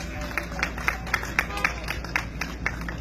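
Crowd applause at an outdoor party political rally, scattered distinct claps rising from a moderate distance over a steady background hum, continuing for about three seconds.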